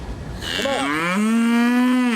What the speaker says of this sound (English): Dennis Rowe marches to meet his cattle